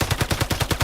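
Rapid hip-fired gunshots from an automatic weapon in the shooter game Islands of Nyne, about eight evenly spaced loud bursts in under a second, close and punchy with no talk over them.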